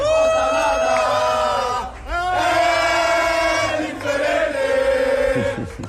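Botafogo football supporters packed into a bar in Belém chant and roar together, a loud sustained wall of voices singing in unison with a brief dip before surging again.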